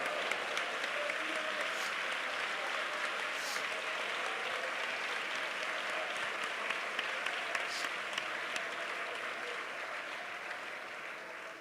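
Sustained applause from a congregation at a Pentecostal Sunday worship service, a dense, steady wash of clapping hands filling the hall for about twelve seconds, easing slightly toward the end.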